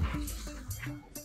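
Dogs on a road trip give short yips, barks and whimpering whines in quick irregular bursts, close and moderately loud, with people talking in the background.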